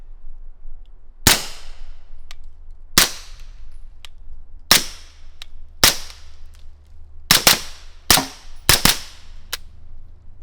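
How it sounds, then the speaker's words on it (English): Seven suppressed shots from a 9mm carbine fitted with a Texas Underground suppressor, firing 165 grain rounds outdoors, each a sharp crack with a short decay, spaced irregularly with a quick double near the end. "This is the 9mm Texas Underground carbine suppressor."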